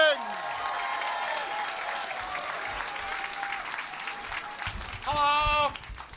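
Audience clapping welcomes comedian John Hastings onto a London stage, a steady crowd applause with whoops that thins out, then a brief burst of cheering near the end.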